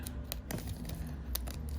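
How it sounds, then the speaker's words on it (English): Scissors snipping along the edge of taped cardboard packaging, a quick series of crisp close cuts in an even rhythm, quiet and alone. "I'm gonna get my scissors"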